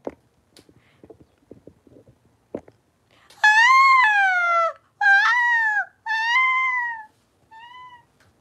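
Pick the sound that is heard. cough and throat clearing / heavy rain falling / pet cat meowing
pet cat meowing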